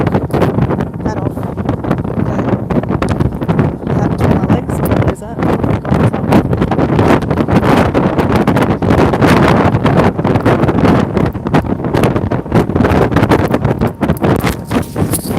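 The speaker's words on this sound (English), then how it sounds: "It's very windy up here" Strong wind buffets a microphone outdoors on an exposed high spot, a loud continuous low rumble with gusty surges throughout, while someone talks over it.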